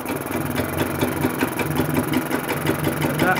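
A Vire 12 hp boat engine, under test for a fuel supply problem, runs at a steady idle with a rapid rhythmic knocking chug, loud and close throughout.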